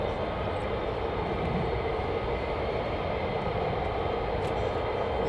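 An F-35 fighter jet flying past carrying ordnance under the wing, heard as a steady, heavy roar of broadband engine noise, moderately loud and unbroken throughout, with no voices.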